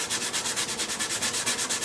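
A guitar's wooden body is sanded by hand in quick, steady back-and-forth strokes, a close, loud, rhythmic scratchy rasp with no voices.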